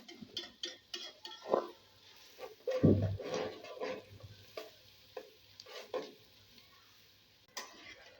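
Onions frying in a pot for chicken korma, soft sizzling broken by scattered stirring clatters and scrapes, one louder knock midway, quiet and close.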